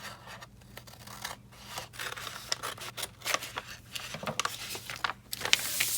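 Scissors snip steadily through a Dollar Tree paper gift bag along its seam, a close run of crisp cuts with paper crinkling and rustling between them, no talking.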